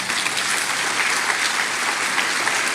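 A church congregation applauds, a dense and steady patter of many hands clapping that fills the space without pause.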